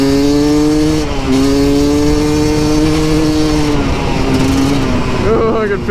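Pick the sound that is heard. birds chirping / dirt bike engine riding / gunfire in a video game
dirt bike engine riding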